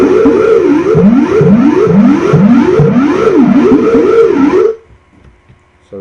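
A Skrillex-style dubstep scream synth made in Massive swoops up and down in a series of loud, gliding, distorted wails, then cuts off abruptly, leaving a faint tail and near silence.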